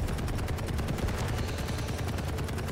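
Rapid automatic gunfire from the arena shooter Quake Champions rattles continuously in quick, evenly spaced bursts, dense and loud throughout with no voices.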